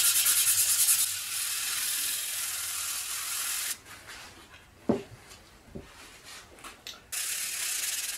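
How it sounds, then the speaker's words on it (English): Steady, rasping sandpaper strokes rub across wood, broken by a few knocks and brief pauses before the scratchy sanding resumes. "I'm going to start sanding it with the grain, and I'll finish with a 220"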